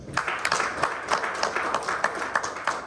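Meeting attendees clap together at a monthly team meeting, a steady patter of many hands lasting throughout, moderately close and even in level.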